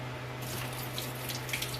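Excess water poured from a cooking pot while boiling tocino, a steady soft splashing and trickle heard close but at low level over a constant low hum.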